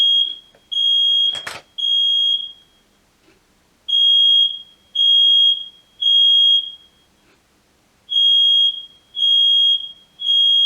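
A loud, shrill smoke alarm beeps in repeated groups of three long tones with short pauses, interrupted once by a brief knock.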